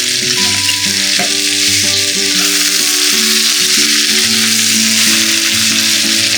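Shanghai braised pork belly with rock sugar and seasonings stir-fried in a pan, a loud, close, continuous sizzle and crackle throughout, no voices.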